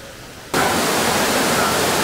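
The Vitello d'Oro waterfall in Farindola, Abruzzo, roars as a steady, loud, broadband rush of falling water heard close at the foot of the falls, starting abruptly and continuing unbroken.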